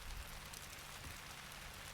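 A rain shower falls on a garden, a soft, steady hiss of drops on the ground that stays faint and even throughout, with no voices.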